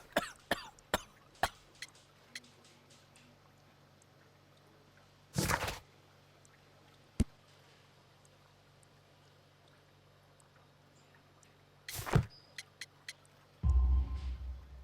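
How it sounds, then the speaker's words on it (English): Several sharp coughs from a man in the Sherlock Holmes: The Devil's Daughter video game, a man with coal dust in his lungs spitting up black fluid, with two longer heavy coughing bursts at intervals against a quiet background. "You have a severe cough."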